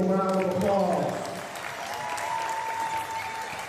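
Audience applause at a basketball championship: a voice briefly at the start, then a steady, dense wash of clapping and crowd noise that carries on through the end.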